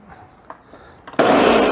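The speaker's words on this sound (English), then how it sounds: "pour the black beans, the whole can, into my blender" A kitchen blender switches on to pulse a whole can of black beans, a sudden loud whirring roar after a moment of quiet with a few faint clicks and handling sounds beforehand.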